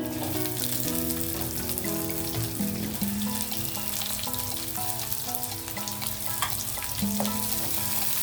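Steady, loud sizzling of onions frying in hot oil fills the whole stretch, with faint music and occasional clinks over the crackle.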